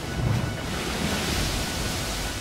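Open blue sea surf rolls in a continuous, broad rush of breaking waves, fairly loud and steady with a slight swell near the start, no voices.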